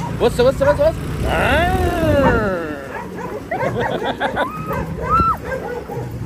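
A dog outside barks and yelps in several bursts, fairly loud and close, mixed in with people talking excitedly.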